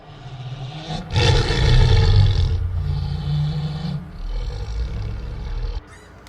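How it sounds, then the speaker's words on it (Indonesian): A tiger roars in a deep, rumbling, drawn-out growl that swells and fades over several seconds, loud and alone with no talk over it. "Ini seekor harimau."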